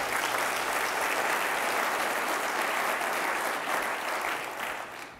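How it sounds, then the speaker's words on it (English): Sustained audience applause fills a business policy conference hall, dense and steady for about five seconds before tapering slightly at the end, with no speech over it. "you can clap"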